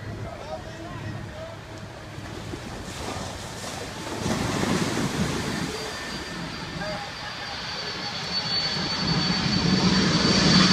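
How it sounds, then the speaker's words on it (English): A fixed-wing airplane comes in low over Maho Beach on Sint Maarten, its engine roar swelling steadily and growing louder toward the end over breaking surf, with people talking nearby. "That plane looks like it's coming right for us."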